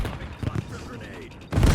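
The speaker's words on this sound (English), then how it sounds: "Cluster grenade." A cluster grenade goes off in Call of Duty Black Ops 7 multiplayer, a loud burst near the end following scattered gunfire pops amid game noise.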